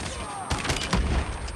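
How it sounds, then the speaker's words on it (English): NA-45 gunfire in the Call of Duty Mobile video game: a couple of loud, booming shots ring out over a noisy, layered game soundscape. "If you shoot it at the body, the first bullet will only give you 30 damage"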